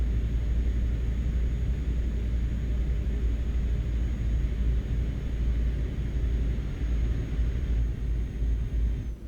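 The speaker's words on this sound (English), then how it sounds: "I think the engine sound is" Steady low droning rumble of an IVECO truck engine in Euro Truck Simulator, running continuously and evenly at a constant loudness throughout, with a faint high whine over the top and no voices.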